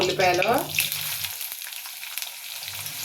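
Sliced onions hit hot oil in a pan with whole garam masala for a prawn curry, giving a brief burst of sizzling that settles into a quieter, crackling fry, with a faint voice early on.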